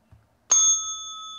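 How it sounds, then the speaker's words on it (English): A single bright bell strike rung as a podcast's final bell, with a clean, close ring that sustains and slowly fades. "Final bell"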